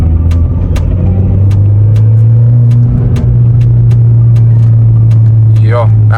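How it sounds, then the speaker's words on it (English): Interior of a VW Polo 1.2 TSI while driving, with a steady low engine drone and road rumble throughout, light ticking and bumps over the top, and a brief whistling sound near the end. "hopefully you guys can hear how the car sounds from the inside"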